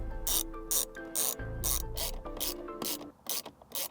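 Bursts of ratchet clicking as screws are driven back into the side of a Nissan 350Z steering wheel, with about eight or nine short rapid ratcheting runs separated by brief pauses, close and clear with no talking.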